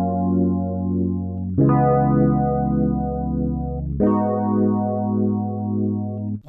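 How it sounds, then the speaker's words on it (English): Warm Rhodes electric piano chords held and changed twice, with a wobbling, slightly washed-out cassette chorus shimmer and a soft reverb tail. "so let's use a cassette chorus with a tiny bit of reverb."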